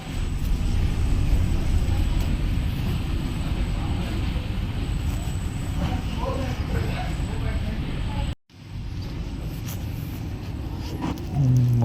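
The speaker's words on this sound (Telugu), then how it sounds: "ముంబై ఎయిర్పోర్ట్కి వచ్చాను ఇప్పుడు" Busy indoor ambience at Mumbai airport: a steady broadband hum of crowd murmur, footsteps and distant machinery, with a brief dropout near the end before the same din resumes.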